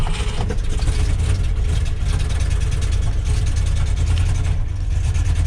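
A 1973 Ford F250 idles after a cold start at zero degrees, a steady, rough low engine drone that holds constant throughout, close and loud, with no speech.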